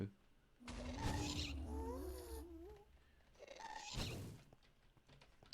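Minecraft FTB Revelation gameplay: a ghast mob wails and groans in two drawn-out bursts amid faint mining laser shots, fairly quiet with a voice talking.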